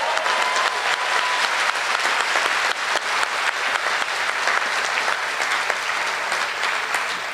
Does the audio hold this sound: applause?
yes